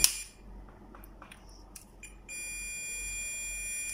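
A multimeter on continuity test gives a steady, high electronic beep that starts partway through and holds to the end, following a few faint clicks of the probes.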